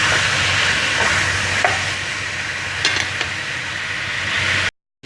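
Chicken sizzles steadily in a pan for chicken curry, a loud, close hiss with a few soft stirring scrapes, then cuts to silence just before the end.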